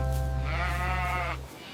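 A sheep in a children's nursery rhyme song gives a single wavering, drawn-out bleat of about a second over a sustained low musical accompaniment.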